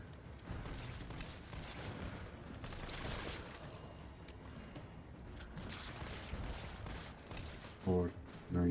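Gunfire from the video game Resident Evil 3 Remake: rapid, dense bursts of shots and mechanical clatter at low level, continuing steadily throughout with a couple of louder thumps near the end.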